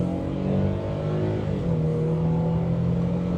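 A Nissan Frontier PRO-4X pickup's V6 revs hard under full acceleration, a loud steady engine drone with rising pitch, heard from inside the cab.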